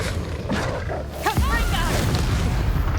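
A Confringo fire spell explodes in the Hogwarts Legacy video game with a single deep boom near the middle, followed by rumbling roar, while a voice is heard alongside.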